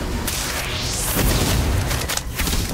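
A Confringo blasting spell explodes in the Harry Potter Magic Awakened video game, a loud booming burst with a rising whoosh sweeping up through it, dense game effects and music continuing throughout without talk.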